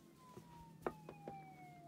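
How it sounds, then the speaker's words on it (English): A faint police siren wails in the distance, its tone sliding slowly downward, with a few soft knocks and bumps nearby. "Police sirens, Oh, no."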